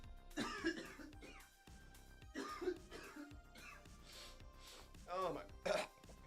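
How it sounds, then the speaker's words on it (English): A person coughing several times close to the microphone, harsh bursts spread across the stretch with short gaps, partly mixed with throat noises. "I need to cough again."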